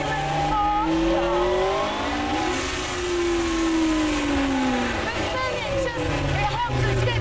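A Tiger Z100 car accelerates hard, its engine note rising and falling through the gears, loud and close, with someone talking over it.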